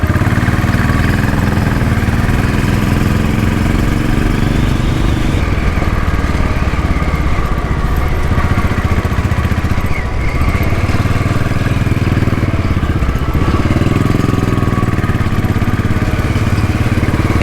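Royal Enfield Bullet and Moto Guzzi motorcycle engines running steadily and close by, a continuous mid-pitched rumble with a slight rise and fall in revs, no voices.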